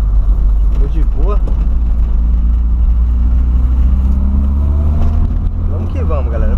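A Volkswagen Voyage car engine idles steadily up close after starting despite a carburetor fault, a continuous low rumble with slight revving, while someone talks over it.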